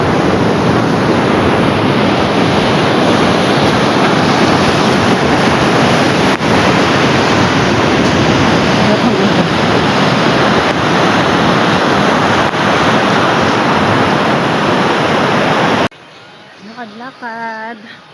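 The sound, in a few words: ocean waves breaking on Casapsapan Beach shore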